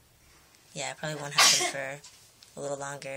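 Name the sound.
roommate sneezing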